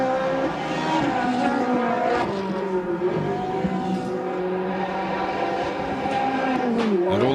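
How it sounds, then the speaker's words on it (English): Race cars in the Trofeo Pirelli series at Monza weave across the track, their engines roaring and shifting pitch continuously, with several cars layered loudly together throughout. "And all the cars weaving from side to side to"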